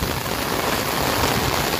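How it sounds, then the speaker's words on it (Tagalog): Heavy rain pours steadily in Luneta Park in Manila, a dense, unbroken hiss of drops with no voices. "lumalakas na naman po ulit yung ulan"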